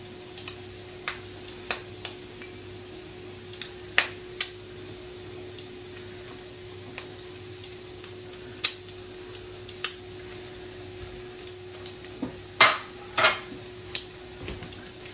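Pancetta and garlic fry in a pan with a faint, steady sizzle, broken by sharp clicks and scrapes of a utensil stirring against the pan.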